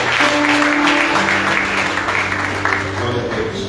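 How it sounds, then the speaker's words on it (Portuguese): A church congregation applauds during a worship service at a conference, sustained steady clapping with crowd noise and a lingering tonal hum, fairly loud throughout. "Aplauda mais o Senhor Jesus Cristo."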